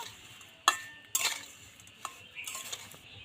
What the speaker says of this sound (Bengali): তেলটা ভালো মতো একটু ঠান্ডা করে আমটা দিয়ে এইভাবে একটু নাড়াচাড়া করে নেব